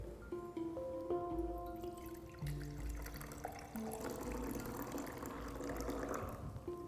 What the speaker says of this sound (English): I am going to decant the clear liquid into a fresh beaker.